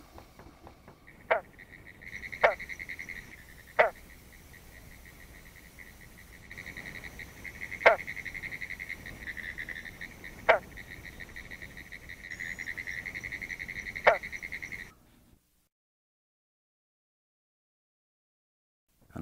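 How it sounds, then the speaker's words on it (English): Green frogs giving single-note territorial calls from a ditch near Orange Springs, Florida: six sharp, evenly spaced plunks stand out over a steady insect chorus, moderately close and loud, then the recording drops to silence. "the single notes of the territoriality call of individual green frogs can be heard throughout the summer"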